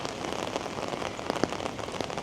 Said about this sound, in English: Should I talk less so you can hear the rain?